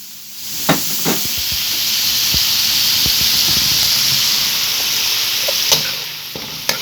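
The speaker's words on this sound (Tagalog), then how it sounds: "prito-prito ng konti ng ating carrots" Carrots for escabeche bangus fry in hot oil, a steady bright sizzle with a few clinks and scrapes of stirring at the start and end, close and alone without talk.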